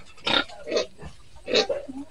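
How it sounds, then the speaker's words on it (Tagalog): Several pigs grunt and oink inside a pen on a farm in Leyte, in three or four close, loud bursts at uneven intervals with short pauses between. "Ang daming baboy."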